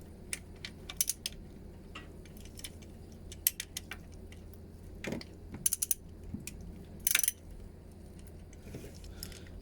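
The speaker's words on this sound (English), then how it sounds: "I'm using E12 to remove the bolts. Firstly, go one by one and release them a bit." Light metallic clicks and ratcheting bursts from a ratchet and E12 socket working the water pump bolts on a Vauxhall, faint and intermittent with a couple of louder rattling spurts.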